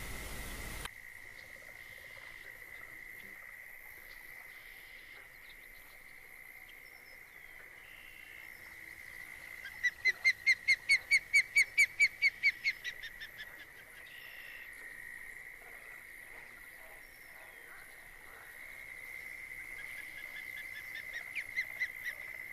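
A bird on a lake in the fishing game Fishing Planet gives a rapid run of repeated chirping pulses for about three seconds. A steady high insect-like drone hangs over the quiet ambient scene throughout.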